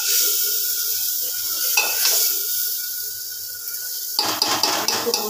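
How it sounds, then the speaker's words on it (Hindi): Tomato, chili, spice and garlic paste sizzling and frying in hot oil in a pan, a steady loud crackle with scraping stirs and clinks of the spoon against the pot, no talking. "भूज लेते हैं दो मिनट के लिए।"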